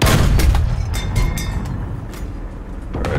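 An M8 LAC's tank cannon fires in War Thunder with a heavy, loud boom at the start. A rumbling tail and engine noise follow, with sharper reports scattered through the few seconds.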